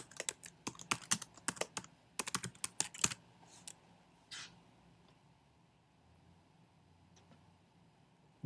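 Quick bursts of typing on a computer keyboard, keys clattering in fast clusters for about three seconds, then a few scattered soft clicks in a quiet room.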